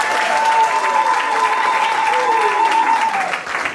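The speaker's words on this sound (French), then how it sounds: "Sous acclamation," Guests at a civil wedding in Gabon applaud and cheer in a steady burst of clapping, with a voice ringing out loudly over the crowd.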